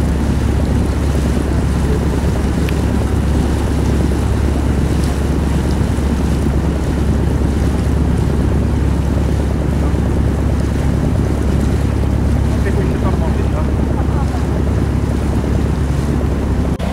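A boat's low engine drone runs steadily on the Dalyan River, mixed with constant wind buffeting the microphone.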